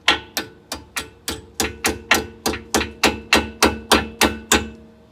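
A Harley brake part being tapped back into place with a hammer: about fourteen sharp, evenly spaced metallic knocks, close and loud, each striking with a crisp attack and quick decay in a steady rhythm.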